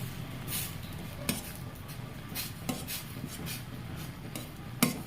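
Maggi noodles are stirred in a pot, with soft scraping and rubbing over a faint background hiss and a few sharp metallic clinks of the utensil against the pot.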